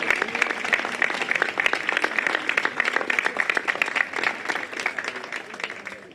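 A studio audience applauding theatre artists, brisk and close clapping that holds steady and loud before easing slightly toward the end.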